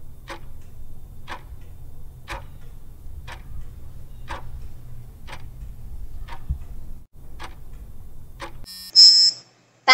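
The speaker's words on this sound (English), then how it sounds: "Timer starts now." A countdown timer ticks steadily, about one tick per second, nine clicks in all over a low hum, then a short electronic beep or buzz signals the end.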